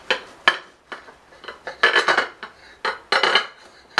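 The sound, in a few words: serrated knife cutting a piece of cheese bread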